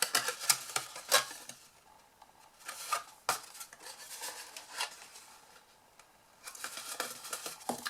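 Card stock box tabs are folded in by hand with crisp papery creases and light taps, several sharp crackles clustered at the start and end, close and fairly quiet with gaps of near silence between.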